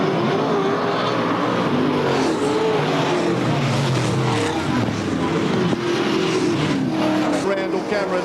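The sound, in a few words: super sedan race cars racing at Archerfield Speedway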